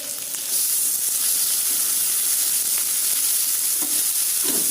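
Mixed vegetables, including potato, eggplant, cabbage and broad beans, fry in a pan for a thick thokku-style dish, giving a steady loud sizzle and hiss that continues without a break, with a few soft stirring clinks.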